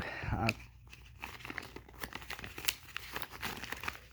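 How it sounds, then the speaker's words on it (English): An NFC card package is unwrapped up close, with a burst of loud crinkling and tearing at the start followed by scattered quieter plastic crackles and rustles. "I'm gonna do a little unwrapping slash unboxing"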